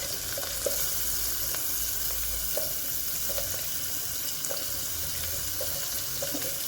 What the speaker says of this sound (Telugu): దీంట్లోకి ఆనియన్స్ వేసేసుకోండి పోపులోకి.